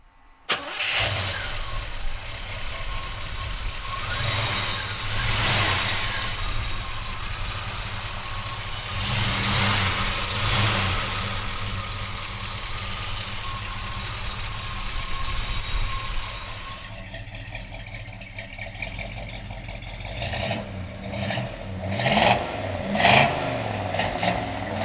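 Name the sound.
classic muscle car engine starting and revving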